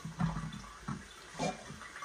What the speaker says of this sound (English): I'm going to always rinse my skillet in hot water